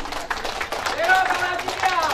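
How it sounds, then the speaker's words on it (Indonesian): Audience at an inauguration and thanksgiving ceremony for a regional council member claps in a brief, moderately loud patter, with voices and crowd murmur mixed in. "Tepuk tangan dulu."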